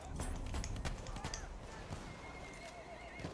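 A horse in the video game Battlefield 1 whinnies and gallops with rapid hoofbeats through dense battlefield noise, while a voice talks faintly underneath.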